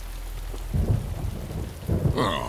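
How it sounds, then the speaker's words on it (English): Heavy rain hisses steadily while deep rumbles of thunder roll in twice, low and loud, in an animated Bakugan battle scene. "Oh, it had to rain."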